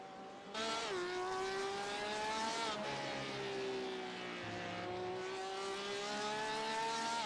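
A GTE race car on a qualifying lap of the Nürburgring in a sim racing game, its engine whining steadily through upshifts and downshifts, loud and continuous from onboard.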